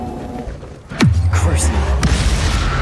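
A deep booming blast from the Confringo explosion spell in the video game Hogwarts Legacy, a sudden loud hit that sinks into a rumbling tail, with a voice speaking over the moments before it.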